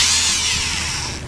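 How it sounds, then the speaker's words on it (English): Foster FSD010 power screwdriver driving an 18 mm wood drill bit into wood, giving a loud, close, continuous high whine that tails off slightly at the end. "Now drill it here."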